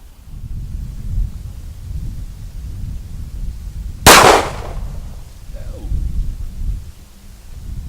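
A single loud, sharp gunshot from a Para Black Ops pistol cracks out close by, its echo rolling briefly away over a low, rumbling outdoor background.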